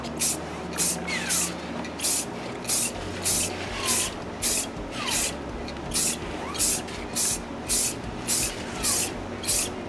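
Spray paint hissing onto Dolby Atmos ceiling speakers in short regular bursts, close and loud, roughly two bursts a second over a low background hum.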